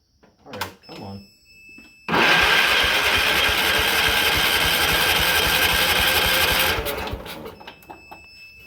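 A Cub Cadet lawn tractor engine is cranked in one loud, continuous, close mechanical whirring burst of about five seconds that then cuts off abruptly, with brief talking before and after.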